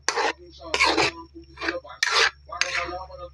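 A utensil stirs pork with alamang shrimp paste in a pan, making five rough rasping scrapes in an uneven rhythm, close and moderately loud, with quiet gaps between strokes.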